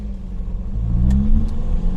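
A 1980 Ford Fiesta's small engine accelerates as the car pulls away, a rising mid-pitched engine note that swells and holds steady at close range, with no voices.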